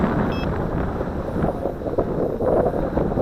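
Breeze buffeting the microphone outdoors during a Cheerson CX-20 drone flight, a steady rough rumble with gusty swells over the short stretch and no voices.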